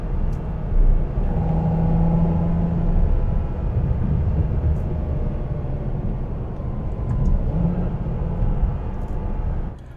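A 2008 Ferrari 612 Scaglietti's engine pulling under load while shifting up through the gears, a steady low rumble from inside the cabin with slight swells in pitch, no talk.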